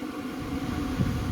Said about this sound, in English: Auger's still running.